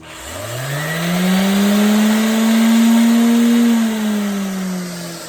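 An electric sander motor spins up with a rising whine, holds a loud steady hum for a few seconds, then winds down, heard up close with no talking.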